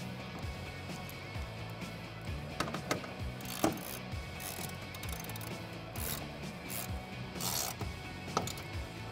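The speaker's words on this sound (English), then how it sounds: "I'm gonna just use a hand ratchet." A hand ratchet tightens a bolt while a retractable bed cover is fitted on a 2016-2020 Toyota Tacoma. Quick rattling clicks come in short bursts with pauses between them, close and moderately quiet, over faint mechanical background noise.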